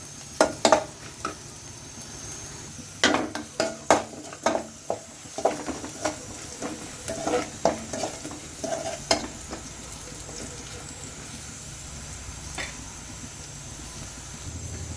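Dried chillies and onion frying in a pan, a steady close sizzle with repeated stirring clatters of a utensil against the pan early on, settling into a continuous hiss.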